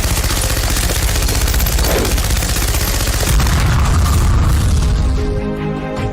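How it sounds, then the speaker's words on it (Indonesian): A firing squad execution with dense, overlapping rifle gunfire, a loud continuous volley of crackling shots and booms that swells midway and then fades slightly, with no voices. "Amir Syarifuddin ditembak mati bersama para pemberontak Madiun yang tertangkap"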